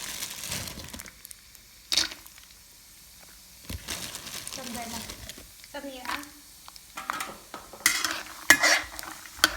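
Peanuts fry in a pan over low heat, with scraping stirs, light sizzling and occasional utensil clinks close up. A voice speaks intermittently between them.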